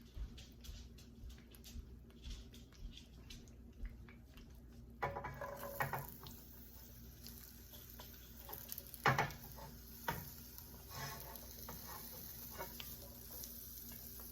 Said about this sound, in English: So right now I'm gonna add my onions.